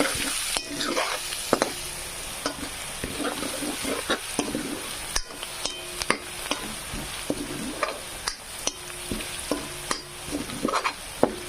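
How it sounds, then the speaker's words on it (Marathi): Masala spices frying in a pan for veg pulao, a soft steady sizzle broken by repeated clinks and scrapes of a spoon stirring, with faint talk in the background. "इकडं मसाला पण फ्राय होऊ द्यायचा आहे, करपू द्यायचा नाही"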